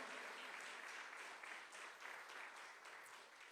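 Steady applause from a church congregation fills the room throughout, a dense continuous patter of many hands at moderate loudness with no clear voices.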